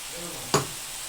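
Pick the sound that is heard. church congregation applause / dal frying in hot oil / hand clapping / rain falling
dal frying in hot oil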